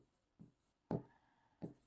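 Writing on a board during a numerical analysis lecture on the iteration method, three short, soft scratching strokes at close range in a quiet room.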